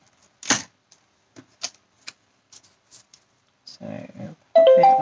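A craft knife or trimmer cuts along the edge of a folded window greeting card with a few brief, sharp clicks and scrapes, then a longer rustle of paper handling near the end, close up in a quiet room.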